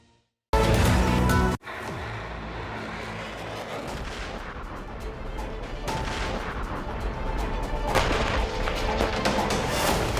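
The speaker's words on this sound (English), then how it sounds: "You can hear explosions. There are rockets landing nearby." Heavy explosions from rockets and airstrikes landing nearby, a loud impact at the start followed by rumbling, repeated detonations and continuous distant gunfire-like rumble.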